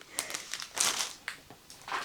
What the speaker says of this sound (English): over the rustling of the bag